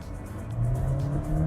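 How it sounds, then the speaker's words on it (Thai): A 2021 Honda City e:HEV hybrid accelerating hard from 80 to 120 km/h, heard from inside as a steady droning engine and road hum with a rising tone. "เดี๋ยวเราลองอัตราเร่ง 80ถึง120 ให้ดูกันนะ"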